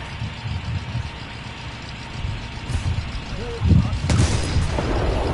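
A few heavy gun blasts sound over a low engine rumble in War Thunder, with a person talking at the same time.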